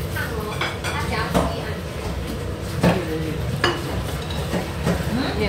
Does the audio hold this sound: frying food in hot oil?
yes